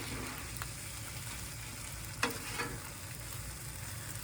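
Flat iron chicken teriyaki stir-fry sizzles steadily in a hot pan with egg bits, a spatula scraping and clacking now and then, one sharper scrape standing out midway; no talking.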